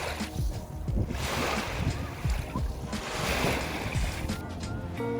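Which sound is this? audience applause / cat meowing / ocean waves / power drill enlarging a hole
ocean waves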